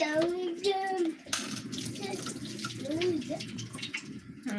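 Water drains off a batch of soggy, still-raw fries in a steady, splashing rush that runs for several seconds. A voice talks over it.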